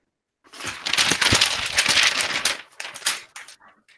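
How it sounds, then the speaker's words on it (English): Loose sheets of paper rustle, crinkle and flutter in an indoor draft in an office, a dense burst of crackling lasting about three seconds with scattered softer flaps trailing off, heard alone. "Wow, all this paper is really flying around."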